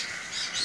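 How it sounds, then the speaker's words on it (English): Quaker parrot chirping among a room of pet birds, a bright, continuous high twittering held close and steady throughout, with a sharper squeak near the end. "this little Quaker is just as sweet as can be, and we absolutely love this species of bird"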